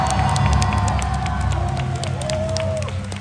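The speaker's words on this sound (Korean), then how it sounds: "여러분이 박수 한번 쳐주시면 안 될까요?" A festival crowd at a rainy outdoor university concert stage in Korea claps and cheers loudly, a dense, close wall of applause with whoops and shouts over a lingering musical tone.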